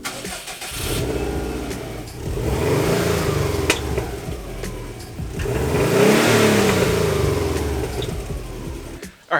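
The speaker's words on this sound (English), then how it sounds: "Before we pull the exhaust off, let's take some sound samples so we can compare it to the Borla Hush." A Subaru WRX on its stock exhaust revs repeatedly, with a loud, close engine rising and falling in two long pulls and no talking.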